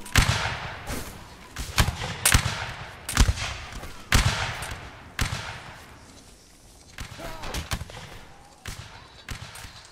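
Scattered musket shots in a Napoleonic Wars line battle game, a series of sharp, cracking reports at irregular intervals, some near and loud, others more distant, with faint background commotion between volleys.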